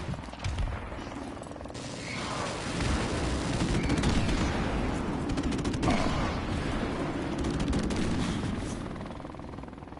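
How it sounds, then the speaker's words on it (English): Airstrike explosions in a Call of Duty Modern Warfare match rumble and crackle continuously amid scattered gunfire, a dense, sustained wash of battle noise with no clear individual booms standing out. "Oh, I survived the airstrike."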